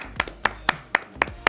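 Hands clapping in a small group celebrating a K-pop group's seventh anniversary, six or seven sharp, evenly spaced claps close by, with faint room tone between them.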